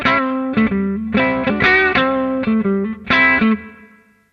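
Guitar played through the Bitwig Studio Amp device set for distortion, a series of sustained, buzzy overdriven chords struck one after another with brief gaps, loud and close, the last chord ringing out and fading.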